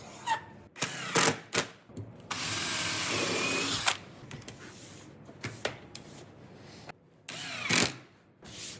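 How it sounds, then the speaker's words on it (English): A power drill drives screws into wood while a mitre shooting board is built, with short bursts of whirring, one sustained run of about two seconds, and then more brief spurts separated by handling clatter. "now reinforce it with some screws"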